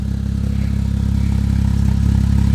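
A 2008 Porsche Cayman S with an aftermarket exhaust idles close by, a deep, steady engine rumble with an even pulsing throb that holds unchanged throughout, with no talk.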